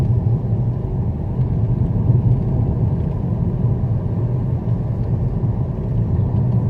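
A Mercedes car on the road with its engine running, a steady low rumble filling the cabin without a break and no voices over it.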